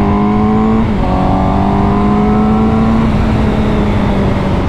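A loud motorcycle engine drones close by, its pitch climbing steadily as it revs with a smooth, sustained tone.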